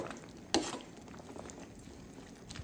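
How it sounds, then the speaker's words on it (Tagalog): Chicken feet with malunggay leaves and upo gourd cooking in a pan, a faint, steady simmering sizzle with one sharp metallic clink of a utensil early on, and no talk. "Malapit na maluto yung ating chicken feet na may malunggay at opo."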